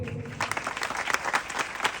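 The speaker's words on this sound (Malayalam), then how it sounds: "ഇപ്പം ഞാൻ നിർത്തുമ്പോൾ എനിക്ക് നല്ലൊരു കയ്യടി തന്നു." An audience at a comedy show in Pathanamthitta claps in a dense, steady burst of applause, loud and continuous for about two seconds.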